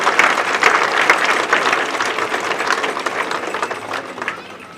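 A high school graduation crowd claps for the school board, a lively burst of many hands that gradually tapers off over a few seconds.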